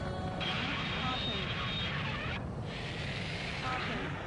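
Jet engine roar of a wingless drone aircraft still flying in the Ace Combat 7 video game, a steady loud broadband rush filling the whole clip with a faint higher whine, under background game noise.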